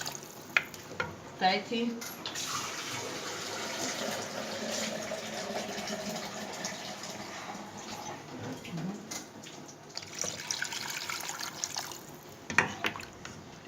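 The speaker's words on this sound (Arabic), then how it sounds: "دلوقتي احط لها الميه" Water is poured into a pot holding beef head meat, a soft continuous splashing and trickle under the noise of a home kitchen, with a voice briefly speaking at the end.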